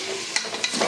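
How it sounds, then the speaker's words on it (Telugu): Chicken biryani with coriander and mint sizzles steadily in a pan while a spoon scrapes through it a few times, close and fairly loud, no talk. "ఇది కొంచెం ఒక 8 మినిట్స్ కొంచెం ఫ్రై అవ్వాలి"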